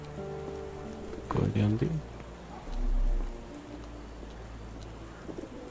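Steady rain in the Sherlock Holmes: The Awakened video game, a constant hiss under a short spoken line, a melodic background drone and a low rumbling swell midway.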